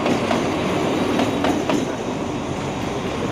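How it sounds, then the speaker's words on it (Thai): A train pulls into a platform at Bang Sue station in Bangkok, a loud rolling rumble with a few clattering wheel knocks and faint squeals, steady and near. "ชานชาลาที่4ก็มีรถเข้าครับนี่ครับตัวรถเข้ามาแล้ว"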